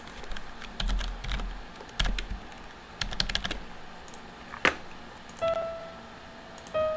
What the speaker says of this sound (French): quand j'appuie sur les touches de mon clavier